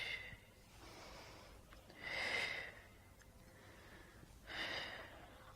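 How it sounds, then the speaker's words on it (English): Audible breaths during a Pilates single leg stretch, with two stronger, airy exhalations standing out over a steady quiet breathing background, close and soft. "breathe in to prepare, breathe out to swap."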